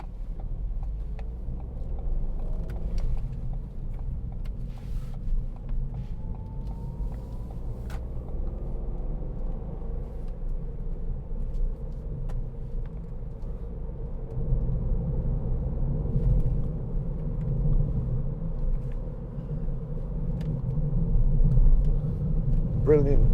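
A 2016 Ford B-Max 1.0 EcoBoost hatchback drives along with a steady low engine and road rumble from inside the cabin, the tone rising slightly later as it pulls through the gears.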